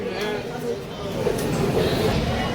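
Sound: train at Kurnool station starting

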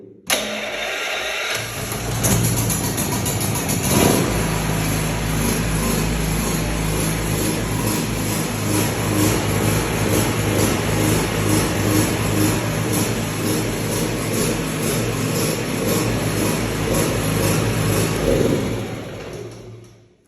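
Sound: Attlas MP3600E petrol generator starting and running

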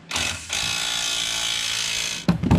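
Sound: Snap-on ratchet removing a quad shock

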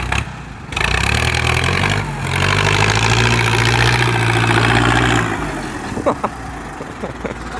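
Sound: New Holland 6640 4x4 tractor engine running

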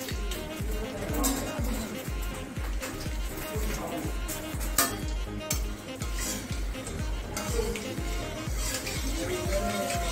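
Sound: cardamom, cloves and cinnamon sizzling in hot oil

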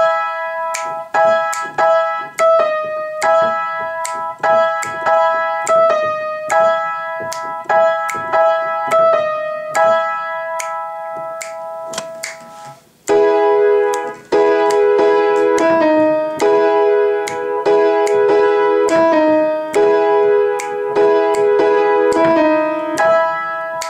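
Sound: piano playing verse backing loop of a song

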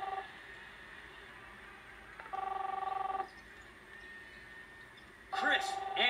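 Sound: telephone ringing in the video game Captain Spirit

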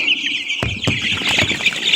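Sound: local chicken chicks at a poultry market

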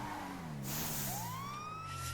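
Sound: siren on a modded car in video game GTA 5

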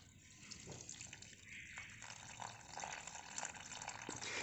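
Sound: watering a potted money plant

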